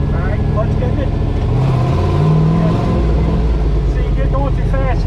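Drift truck engine revving hard during its first passes, a loud, continuous mid-pitched roar with swelling throttle, while people talk underneath.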